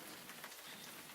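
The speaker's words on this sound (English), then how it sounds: "Oh no, it's raining." Rain sound effect in a radio drama, a soft continuous patter of falling rain, faint and steady with no voices over it.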